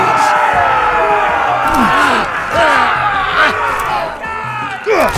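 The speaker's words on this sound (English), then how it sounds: "We cannot let the crowd go wanting!" A loud arena crowd in the Game of Thrones video game, shouting and roaring continuously with swelling bursts of yells, under and between voices.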